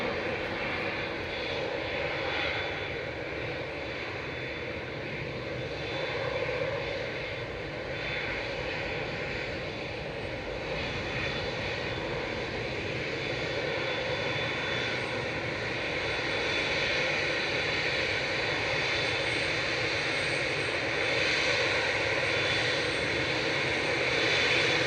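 Qatar Airways Boeing 777-9 jet airliner departing Manchester Airport, a sustained loud roar of engines at takeoff power, steady throughout and building slightly toward the end.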